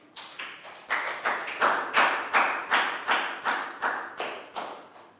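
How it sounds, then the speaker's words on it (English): A small group in a classroom claps for a student, a run of about a dozen rhythmic, evenly spaced claps, moderately loud and fairly close with no talk over them. "Big round of applause."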